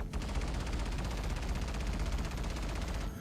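Rapid, continuous Gatling gun fire from the Aquila ship in Star Citizen, a steady dense stream of shots running nearly the full length, loud and close with no gaps.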